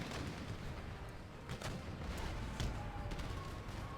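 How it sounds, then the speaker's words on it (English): Artillery firing in the video game Empire Total War, a low rumbling battle din with scattered sharp booms and cracks over a constant roar, fairly distant. "And our artillery ended up holding. They took some injuries, they took some damage, but they are back firing away."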